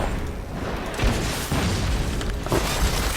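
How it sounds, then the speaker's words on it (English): Rocket launcher explosions from Jinx in League of Legends gameplay, a dense run of booming blasts and bursts that keeps up steady and loud throughout, with a few sharper hits standing out. "Oh, I have my rocket launcher on."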